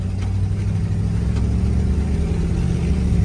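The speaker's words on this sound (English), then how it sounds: "the original owner put cherry bombs on it and dual exhaust" A Ford F250 survivor truck idles loud and close through cherry bomb mufflers and dual exhaust. The low, steady rumble has a throaty pulse and no talking over it.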